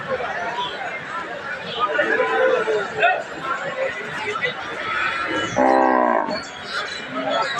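Cattle at a village livestock market in Kaharol, Dinajpur, where cows and calves are sold, with one short, clear moo rising late amid constant nearby chatter from buyers and sellers.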